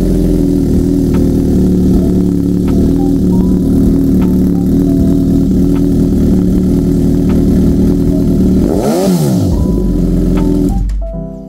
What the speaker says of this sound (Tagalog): So, napakaingay nitong exhaust na to.